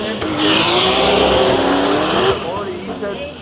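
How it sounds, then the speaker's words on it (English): A 400hp street car launches off the start line into a drift, its engine screaming high and tires squealing loudly for a couple of seconds before fading, with commentary over it. "Green light drops down the front straight we go"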